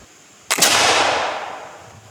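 A single musket fires during a historical reenactment, one sharp loud blast followed by a long rolling echo that fades over about a second and a half outdoors.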